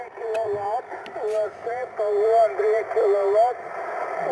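Shortwave radio receiver hiss with wavering, warbling tones on the bands after switching to a Windom antenna, a steady noise bed with drifting signals throughout.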